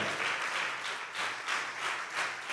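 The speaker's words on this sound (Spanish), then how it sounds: "Dale un aplauso a Dios." Enthusiastic clapping from a church congregation fills the room, swelling in rhythmic waves, fairly close and without any voices over it.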